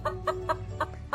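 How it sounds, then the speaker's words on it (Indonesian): A chicken clucking close by, five short, evenly spaced clucks in a steady rhythm over a low background hum. "ayam"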